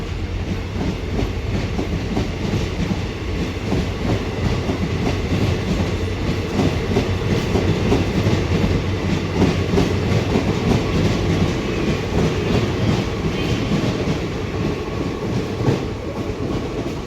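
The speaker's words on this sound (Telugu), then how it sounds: "ట్రైన్ వచ్చింది, వెళ్ళిపోతుంది కూడా అది." A passenger train rumbles steadily past close by, wheels clattering rhythmically over the rails for the whole stretch, loud and continuous with no voices.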